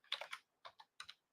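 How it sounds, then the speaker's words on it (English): Keys clatter on a computer keyboard in three quick clusters of clicks separated by short pauses, close and crisp in an otherwise quiet room, with no speech. "I'm typing them there."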